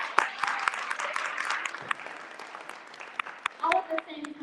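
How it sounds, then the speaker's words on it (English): A town hall audience gives sparse, fairly quiet applause with scattered individual claps, while faint voices murmur underneath and grow louder toward the end. "let's give a warm round of applause to all of our young fellows"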